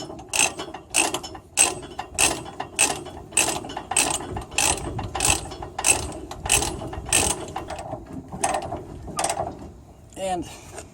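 Ratchet binders being cranked to tighten chains on a heavy haul trailer carrying a John Deere 250, giving a steady series of sharp, evenly spaced metallic clicks, close and loud, with a brief squeak near the end.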